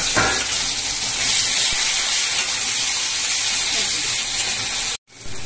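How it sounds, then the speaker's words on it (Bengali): Chopped onion and tomato frying in a pan with cardamom, a loud, steady sizzle and hiss from start to finish, with one short break near the end. "এবার আমি এটাকে খুব ভালো করে ভাজবো।"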